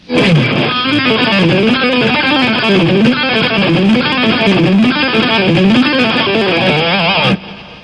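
A heavily distorted electric guitar plays a fast, wailing lick with bending, vocal-like notes for several seconds, then cuts off.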